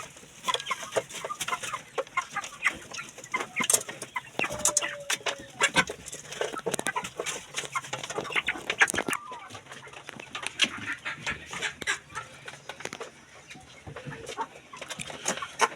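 A flock of chickens clucks and murmurs busily while being fed cassava peels, with scattered pecking taps and occasional louder squawks over a soft outdoor background.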